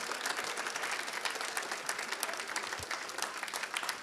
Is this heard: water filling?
no